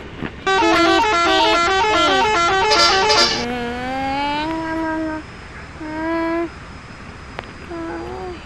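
Car horn tested before setting off: a series of loud, close honks, some short toots and some held blasts with a wavering pitch, then quieter blares trailing off with gaps between them.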